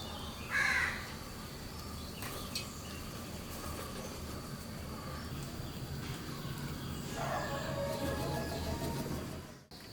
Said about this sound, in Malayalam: ആകാശത്തുനിന്ന് കൂട്ടത്തോടെ പറന്നിറങ്ങുന്ന കാക്കകൾ